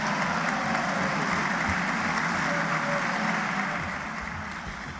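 Applause from members of a parliamentary session, a dense and steady clatter of clapping that fills the room and eases off slightly toward the end, with no talk over it.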